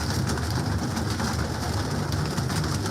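Pigeons of a Dilawar Khan breed at a loft coo and murmur in a dense, steady flock chorus, close and continuous with a busy background hum and no talking.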